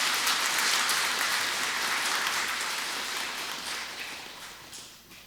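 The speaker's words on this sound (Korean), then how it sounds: "박수로 환영해 주시기 바랍니다" A congregation at a Sunday Mass in a Korean Catholic church applauds to welcome a lay speaker, sounding as a dense, even wash of clapping that slowly fades toward the end.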